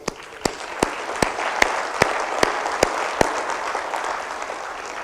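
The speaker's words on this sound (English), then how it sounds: "How about a round of applause for grandchildren?" Crowd applause fills the space at a company annual meeting, with a few sharp claps standing out in a slow, regular beat above the steady clapping.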